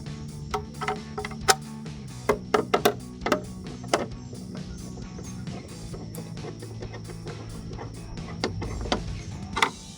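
Phillips screws being driven by hand to fit side pieces of a track pack style rear spoiler on a 2015-2023 Mustang, with irregular sharp clicks and taps over a low steady hum, close up.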